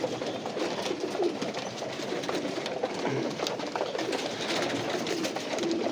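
Jacobin fancy pigeons cooing in a loft, several soft repeated low coos from nearby birds over a steady background of rustling and general noise.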